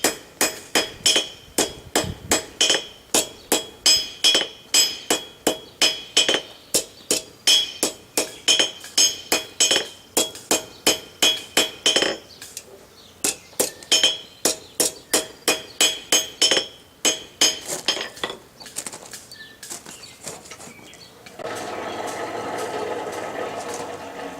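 A rusty nail is hammered into a short taper at the forge, a long run of fast, regular ringing hammer blows on metal and anvil that pauses briefly, resumes, then gives way to a steady hiss near the end.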